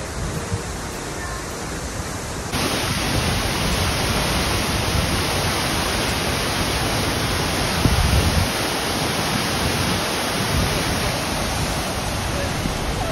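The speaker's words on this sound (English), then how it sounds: "A lot of water coming down every second." A large waterfall at Doi Inthanon in Thailand roars as a constant, loud, dense rush of falling water, unbroken from start to finish.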